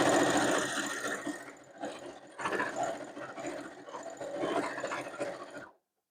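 A sewing machine stitching a quilt, its motor running in a continuous close whirring hum that pulses slightly in speed for several seconds before stopping abruptly.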